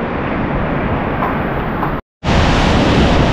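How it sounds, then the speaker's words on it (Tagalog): Strong winds of Super Typhoon Uwan heard from a second floor, a loud, unbroken roar of rushing air with a brief dropout partway through before the roar resumes. "Grabe, lalong lumalakas yung hangin"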